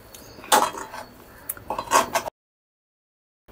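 A spoon scraping and clinking against a metal pot while puran filling is stirred together with cardamom powder, a few distinct metallic scrapes close up, then silence.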